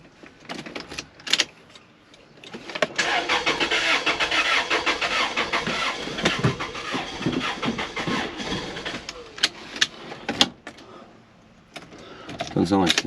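A Toyota Celica engine cranks over repeatedly without catching, a steady mechanical churn lasting several seconds at close range, with brief pauses and clicks around it.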